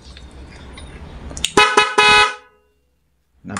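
Night Trip Plus Pro car horn in mode 3 blares in a few loud, close bursts, a short blast then a sustained honk that cuts off abruptly, with another burst starting at the very end.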